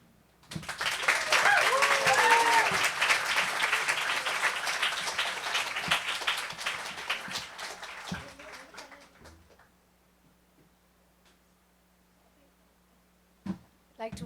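Audience at a poetry reading applauds warmly for several seconds, the clapping fading away into near silence, followed by a couple of faint knocks.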